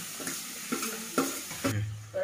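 Onion, tomato, chili and ginger fry in a pan for masala dosa filling, with a steady sizzle broken by a few scraping stirs of a utensil, close and fairly loud.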